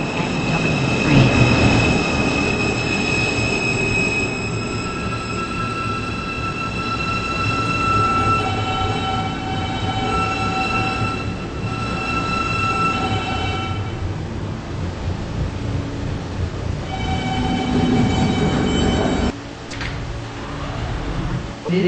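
A Roblox R160 N Express subway train rumbles steadily with squealing wheels and tonal whines, a continuous rolling roar that shifts in pitch as it travels.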